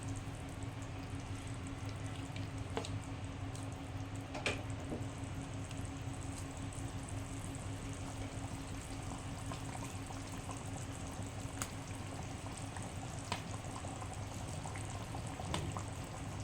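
Quiet, steady bubbling of curry broth simmering in a pot for fish curry, with occasional soft pops and a faint low hum underneath.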